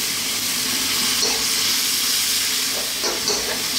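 Vegetables sizzle loudly and continuously as they stir-fry in sesame oil over very high heat, with a steady close hiss and occasional scraping as the pan contents are kept moving.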